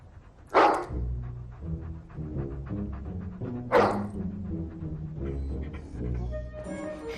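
A dog barks twice, loud and close, in a cluttered house, with sharp separate barks about three seconds apart over a low background hum.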